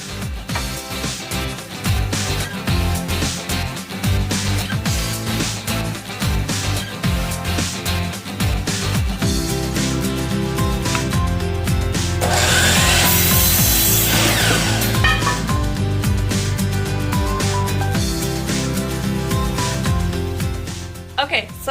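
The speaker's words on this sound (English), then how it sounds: "And then I'm gonna run it through the table saw and cut it in half." Table saw ripping wood boards in half, a long steady whirring cut with a harsh, brighter surge partway through as the blade bites, loud and continuous alongside other workshop noise.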